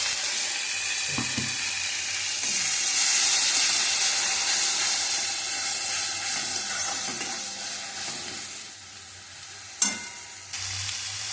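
Spiced masala paste for methi chicken frying in a kadai gives a loud continuous sizzle and hiss, broken by occasional scraping stirs and a sharp clank near the end.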